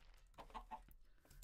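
Chicken clucking in Minecraft, a few short soft clucks in a quick burst, faint and close, with no voices over them.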